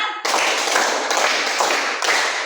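A classroom of students claps in a counted pattern, a dense burst of hand claps with a few fresh surges of clapping through the clip, fairly loud and close, with no talking.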